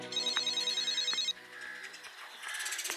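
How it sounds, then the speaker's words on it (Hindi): A phone rings repeatedly with a bright electronic ringtone, fairly loud and close, then the tone changes partway through. "ये फोन कितना बज रहा है?"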